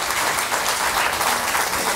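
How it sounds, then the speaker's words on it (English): An audience at the close of a public talk with Howard Dean breaks into a steady, dense round of applause, a continuous wash of many hands clapping with no voices above it. "giving a warm round of applause and thanks to Governor Dean and to Roger Simon"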